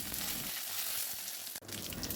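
Curry leaves hit hot oil in a kadai alongside tempering dal, giving a steady, close sizzle and crackle that runs throughout with one brief dip.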